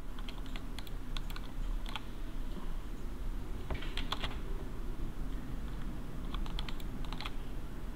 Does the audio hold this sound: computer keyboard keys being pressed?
yes